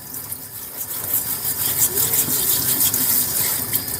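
Black radish rinsed under a running kitchen tap, a steady close gush of water splashing over the root with slight fluctuations as it is turned and scrubbed.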